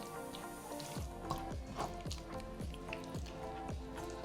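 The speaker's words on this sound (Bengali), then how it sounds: "এখানে অল্প একটু পানি দিয়ে দেব" A little water trickles and drips onto marinated beef in a pan, soft rhythmic splashes repeating close up and quiet.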